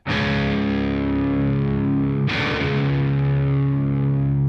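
Heavy, sustained distorted guitar chords from a doom metal song ring out loud and thick, one long droning chord followed by another struck partway through, with no vocals.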